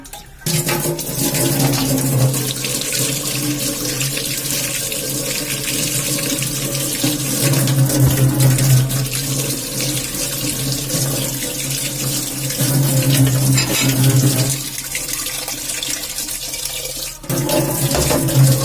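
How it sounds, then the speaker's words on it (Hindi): Water gushing forcefully from a household tap into a sink, a steady loud rushing stream lasting throughout, with brief changes in the flow near the end. "ये नल में सुबह पानी, शाम को पानी आता है, और इतना फोर्स में आता है"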